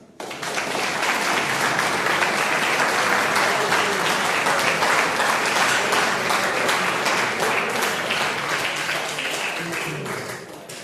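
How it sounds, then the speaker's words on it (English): Sustained, loud audience applause from a room of eleventh-grade students after an academic entrepreneurship talk, steady and dense for several seconds before tapering slightly at the end. "the applause is for you"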